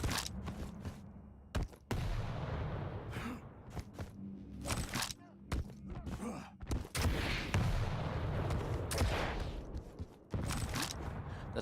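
Rocket blasts and rapid gunfire from the arena shooter Quake Champions during a competitive duel, loud and dense with repeated sharp bursts and brief gaps, no talk over it.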